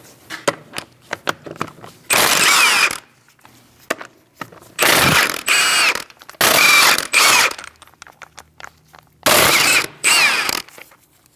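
Four loud bursts of a ratchet wrench with a 17mm socket spinning off the lug nuts of a 2000-2006 Mini Cooper front wheel, the bursts separated by quieter handling clicks and taps in a garage.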